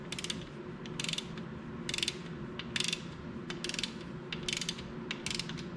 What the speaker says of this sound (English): Have the torque wrench set.